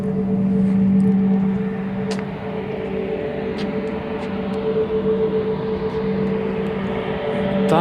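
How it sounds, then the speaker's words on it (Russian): Azimut Sukhoi Superjet 100 airliner passing at an airport, a steady loud jet roar with tonal hum holding throughout, heard from outdoors at moderate distance with faint background activity. "Там шум от какого-то самолета."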